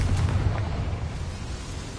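A Confringo blasting spell explodes in the Hogwarts Legacy video game, a heavy, rumbling boom that rolls on as a loud, sustained low roar and fades only slightly.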